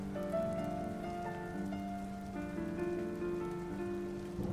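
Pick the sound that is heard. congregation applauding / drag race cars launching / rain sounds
rain sounds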